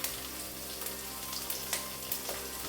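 Cumin seeds, mustard seeds and garlic fry in hot oil in a pan, giving a steady dense sizzle with a few small pops and no talking.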